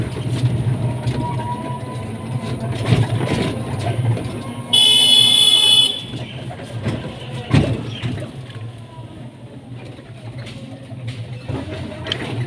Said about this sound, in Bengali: ট্রেন থেকে নেমে পড়লাম ঠাকুরনগর স্টেশন। ট্রেন চলে গেল